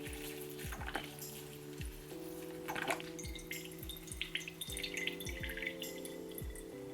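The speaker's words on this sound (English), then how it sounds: "Just gonna give it some water." Water is poured onto a plant in a DIY self-watering semi-hydro pot, making a steady series of close drips and small splashes over a faint tonal hum.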